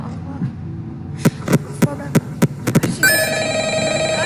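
A telephone rings in Five Nights at Freddy's Ultimate Custom Night, a string of sharp ring bursts at a quick rhythm before a steady electronic tone takes over.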